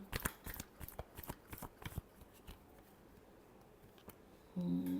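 Tarot cards are shuffled up close in a quiet room, with quick riffling flutters and soft slaps that come in rapid bursts, then fade into a brief pause.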